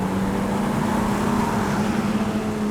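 A Ferrari Roma Spider driven on the road, with a loud, steady engine drone and a constant low hum, heard from inside the car with no talking.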